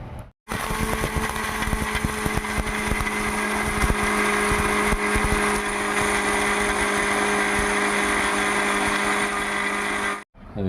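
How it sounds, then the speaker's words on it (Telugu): Mixer grinder whirring steadily as it grinds roasted flax seeds with chillies into a spice powder, a loud continuous motor roar running for about ten seconds with no talking. "మిక్సీ పట్టుకుందాం"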